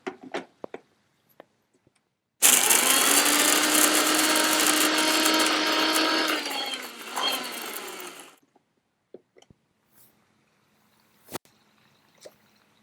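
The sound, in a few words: mixer grinder grinding spice powder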